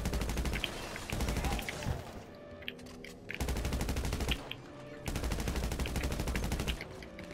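Rapid automatic gunfire rattles in long bursts during a GTA Online heist mission, stopping briefly between volleys, with quieter gaps filled by faint game sounds.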